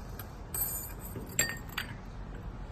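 A glass cup on a crystal wall lamp gives a few light, faint clinks as it settles into place, over a steady soft background hiss.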